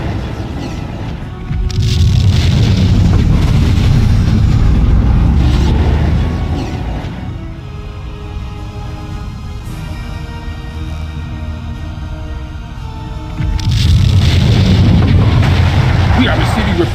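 Loud booming blasts from a monitoring station being destroyed in a Klingon Academy space combat game, a heavy rumbling burst that fades into a quieter stretch before a second roaring wave of explosion noise returns near the end.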